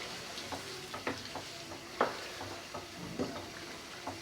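Chicken balti with garam masala cooks in a pan, a steady sizzle with intermittent stirring scrapes and clinks, close and moderately loud, no one talking.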